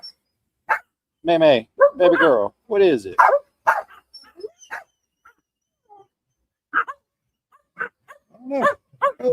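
Dogs at a rural homestead bark in short bursts, mixed in with close, lively talk that dominates the scene.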